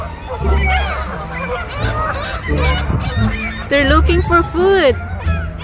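Geese honk repeatedly at close range near Niagara Falls on the first day of spring, their loud calls overlapping with a person's excited talk.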